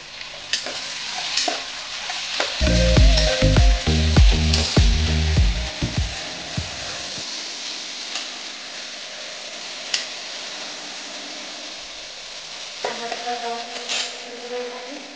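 Onions fry and sizzle loudly in a hot pan for Marathi-style pavta biryani, with stirring scrapes and knocks early on, then a steady hiss that softens and continues without talk.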